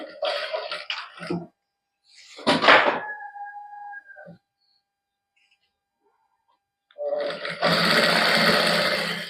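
A sewing machine stitching bead lace onto a dupatta runs in short bursts, a rapid mechanical whir starting and stopping between quiet gaps, with a voice speaking briefly in between.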